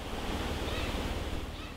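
Large ocean waves surge and crash off Ulleungdo island in a continuous, dense roar of surf, with wind rushing over the microphone.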